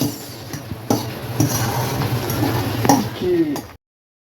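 Noodles being stirred with masala in a cooking pot, with soft clinks and scrapes of a spoon against the metal rising and falling over background kitchen noise, while someone talks throughout.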